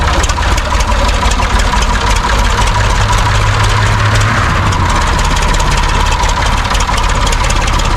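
A loud, steady Massey Ferguson 255 tractor engine idles close by after an overhaul, a low continuous rumble with a mechanical hum and no talking.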